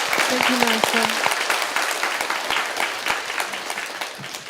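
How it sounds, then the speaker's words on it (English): Enthusiastic audience clapping fills a hall after a talk, a dense steady patter of many hands, with a voice speaking briefly over it near the start. "And your enthusiastic clapping."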